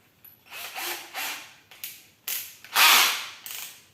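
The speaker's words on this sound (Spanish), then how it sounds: "ahora habría que hacer un taladro en la pieza esta que hemos puesto de EVA" Power drill boring into a piece of EVA foam, several short whirring bursts with pauses between them, the last and longest burst the loudest, close up with no talk.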